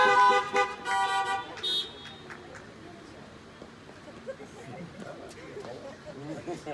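Car horns honked by a drive-in church congregation, a burst of overlapping toots and blares at the start, then fainter scattered honks under someone speaking.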